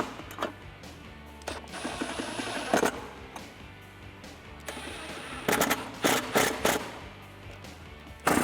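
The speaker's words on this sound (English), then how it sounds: "then I'm gonna use my impact gun to make life easier" A power impact gun drives screws while a cold air intake goes into a 2019 RAM 1500, firing several short, loud, rattling bursts between quieter handling noises.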